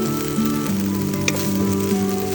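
Beef steak frying in a pan, with a steady sizzle running through the whole stretch and no voices over it.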